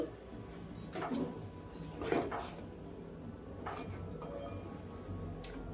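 Chandra kala gujiya, double-folded pastries, fry in oil over medium heat with a soft steady sizzle, broken by a few faint clinks and scrapes nearby.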